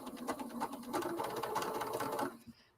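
A sewing machine runs a decorative stitch in a quick, even mechanical rattle for about two and a half seconds, close and moderately quiet, then stops abruptly.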